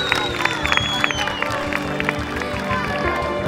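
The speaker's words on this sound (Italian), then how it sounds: "un grande applauso." Crowd at a youth summer football tournament final applauding a third-placed team, with scattered claps and cheers under a busy mix of background voices and music.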